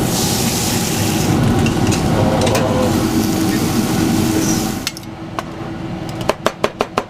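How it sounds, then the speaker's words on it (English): Beef birria simmers in a big cauldron in a Los Angeles restaurant kitchen, giving a steady close bubbling hiss that fades partway through, followed by a few sharp utensil clinks. "Got the big cauldron of birria just simmering away, and it's beef."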